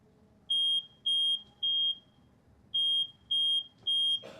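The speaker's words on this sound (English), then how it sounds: "The smoke alarm activates at 24 seconds." A residential smoke alarm sounds during a room fire test as flames spread up a curtain onto furniture, giving six loud, piercing beeps in two groups of three, with quiet crackling underneath.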